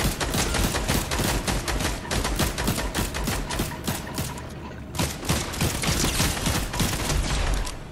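Dense, sustained gunfire from a Fortnite match, with rapid overlapping shots that keep going across the whole stretch at a loud, steady level, with only a brief dip in the middle.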